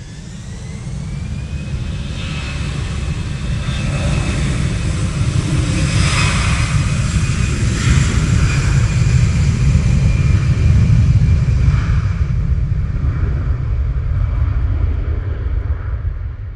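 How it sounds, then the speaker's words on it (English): A Eurowings airliner lands on the runway at Manchester Airport in wet, windy weather, its jet engines a loud, steady roar that builds and then slowly fades over many seconds, with wind noise mixed in. "Just going to bosh it into the runway there."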